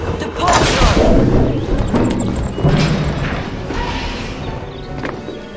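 Depulso spell cast in the Harry Potter and the Prisoner of Azkaban PC game, a loud booming blast followed by rumbling impacts and fading thuds, with game effects layered over it.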